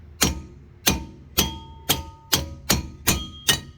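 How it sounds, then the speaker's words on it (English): Eight sharp metallic hammer strikes on the rear brake drum of a 2004-2009 Toyota Prius, hit to loosen it, evenly spaced about half a second apart, each ringing briefly before the next. "we want to use a hammer and hit around the drum just to kind of loosen that up"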